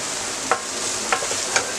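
Onion and finely chopped capsicum fry in a pan, a loud dense sizzle filling the moment with three brief scraping stirs spaced evenly across it.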